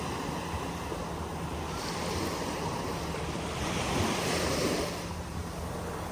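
Sea waves washing onto a beach, a steady close wash of surf with one fuller surge swelling midway, heard alone with light wind and no talk.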